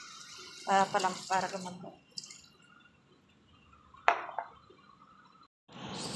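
Water splashes and drips into a pan of pork being cooked in a home kitchen, arriving in a few short bursts with pauses, and a voice speaks quietly between them.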